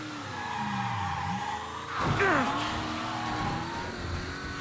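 A car engine in the video game Mafia III revs steadily, then tires skid and squeal briefly, with an engine whine sweeping up and down before settling back into a steady hum.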